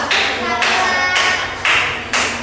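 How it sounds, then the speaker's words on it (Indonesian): A classroom claps for a student, a few strong rhythmic bursts of group clapping that swell and fade in waves, close by and loud. "tepuk tangan untuk Eva"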